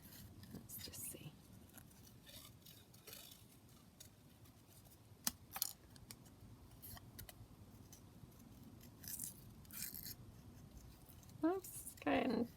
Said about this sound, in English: I'm going to struggle to cut that flower out.